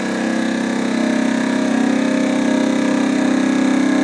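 An Avid Armor Ultra USV20 vacuum sealer runs its auto vac and seal cycle, a steady close motor hum that rises slightly in pitch and loudness as it pulls down.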